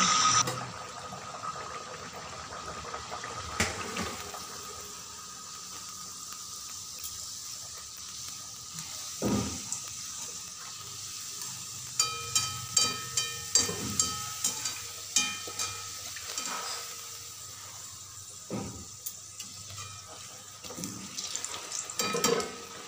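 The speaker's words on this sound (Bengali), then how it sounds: "এরপর আমি একে একে সমস্ত কচুরিগুলো ফ্রাই করে নেব।" Pea-stuffed kachoris deep-frying in hot oil, a continuous bubbling hiss with scattered sharp crackles and pops, growing busier as they cook, no speech.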